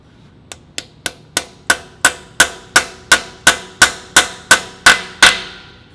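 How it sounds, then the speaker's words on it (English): A small hammer taps a breather fitting into a Subaru EJ engine, about sixteen sharp metallic strikes in an even rhythm. Each strike rings briefly and lands a little harder as the taps go on, close and clear with no voices. "can kind of hear the tone of your hammer change when it's fully set in"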